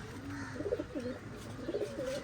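Pigeons in a breeding loft cooing in low, throaty rolling phrases, two bursts of soft repeated coos close by, with no talking.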